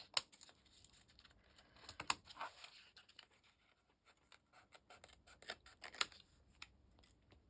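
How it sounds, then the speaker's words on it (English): Scissors snipping the flaps off a paper envelope for a junk journal, a scattered run of short, crisp cuts and papery rustles at close range, quiet and unaccompanied by speech. "This one's not an open one, so we're going to cut those little flaps off here."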